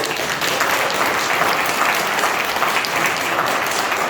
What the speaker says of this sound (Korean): 여기 박수 소리가 좀 커야 돼.